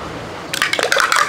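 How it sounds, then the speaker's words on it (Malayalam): Cooking oil splashes into a pan in a short, loud burst of liquid pouring that starts abruptly after a quiet lead-in and gurgles unevenly for under a second. "ഈ പാൻ്റെ അകത്തോട്ട് ഒരല്പം ഓയിൽ അങ്ങോട്ട് ഒഴിക്കുക."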